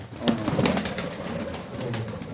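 Soft, low pigeon cooing close by, a burbling murmur repeated over a couple of seconds amid faint background noise.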